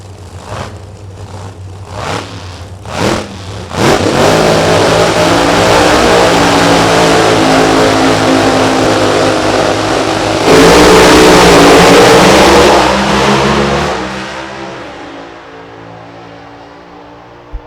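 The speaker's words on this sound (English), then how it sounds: "Going to bring the RPMs up and head for the other end." A hot rod drag racing car at a Topeka drag strip revs its engine in several sharp, loud blips before settling into a sustained high-RPM roar that surges again near the end, then drops off. No talk.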